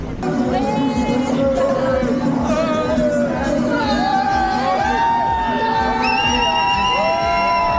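A crowd of skaters at a London skate gathering cheers and whoops loudly and continuously, with shouted voices and high yells rising over a steady roar of many people nearby.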